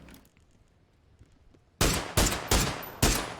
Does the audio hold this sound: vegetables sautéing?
no